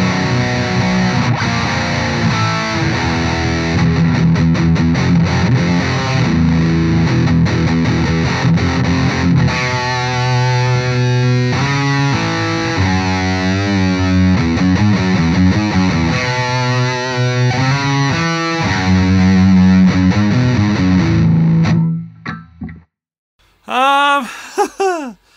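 Distorted electric guitar with humbucker pickups, tuned low and played through an H&K Spirit Nano amp, chugging heavy riffs and sustained chords for most of the stretch before fading out.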